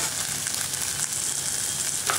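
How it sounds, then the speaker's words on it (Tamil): Barley rice hits a hot oiled pan and sizzles in a loud, steady, close crackle that lasts the whole moment, with faint stirring and no voices. "இப்போ அந்த பார்லி ரைஸை நம்ம இதில் போட்டுடலாம்."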